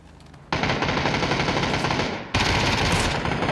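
Sustained automatic gunfire in the battle royale game PUBG, a loud continuous burst that cuts out briefly and resumes with equal intensity, with no talking over it.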